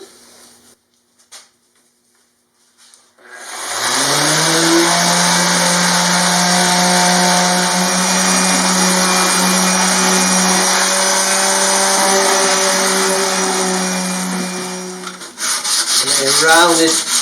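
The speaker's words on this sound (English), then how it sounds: "and then some sanding." Power sanding on parts of a homemade separating toilet: after a few quiet seconds the tool starts and runs as a loud, steady whine with a rasping rub for about twelve seconds, then cuts out into handling noise.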